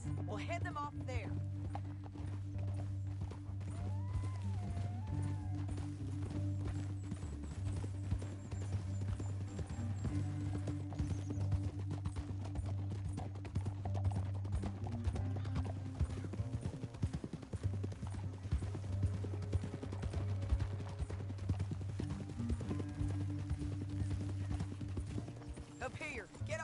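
Steady clip-clop of horse hooves, several animals at a walk, running under a loud sustained music score with occasional voices.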